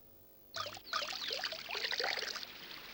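Water is poured from a vessel as an arghya offering to the sun god at a river, a close, steady splashing pour that starts abruptly, runs for a couple of seconds and then tapers off.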